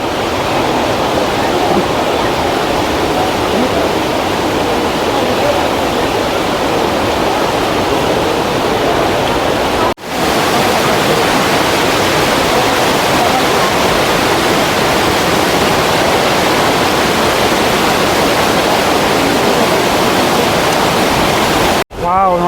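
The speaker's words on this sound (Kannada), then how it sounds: "ನೋಡಿ ನೀರು ಎಷ್ಟು ಜೋರಾಗಿ ಬರ್ತಿದೆ ಫೋರ್ಸಾಗಿ" Water pours through the opened gates of KRS dam in a loud, continuous roar of rushing spray that barely wavers, briefly cut twice before resuming.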